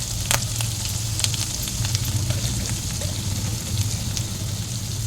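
Ginger, green chilli and turmeric sizzle steadily in a hot pan with potatoes, a loud continuous frying hiss with faint crackles and occasional stirring scrapes.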